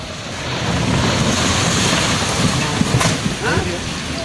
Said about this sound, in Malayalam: സംസ്ഥാനത്ത് രൂക്ഷമായ കടലാക്രമണം.